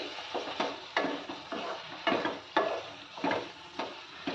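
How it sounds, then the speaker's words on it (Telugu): A spoon stirs spinach into cooked onion and tomato in a pan, making regular scraping strokes about every half second over a soft sizzle, close and steady with no talking. "ఈ విధంగా ఒకసారి పాలకూరని వీటిలో ఈవెన్గా మిక్స్ చేసుకోవాలి."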